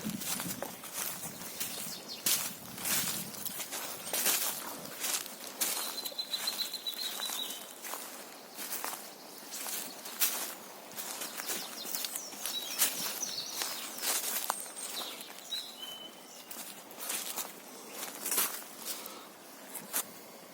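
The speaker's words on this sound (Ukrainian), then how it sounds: "Пташки співають." Faint bird chirps and short trills sound in the distance among irregular rustling and crunching footsteps on a forest floor.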